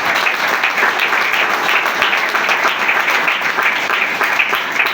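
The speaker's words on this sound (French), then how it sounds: "Sous vos applaudissements, s'il vous plaît" Audience at the opening of a political party congress applauding, sustained, even clapping from a large crowd throughout.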